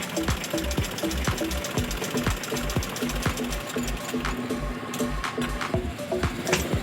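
A sewing machine stitches cloth during a thread-breaking fault test, running loud and close with a fast, steady mechanical thumping rhythm and a rattly clatter that never stops.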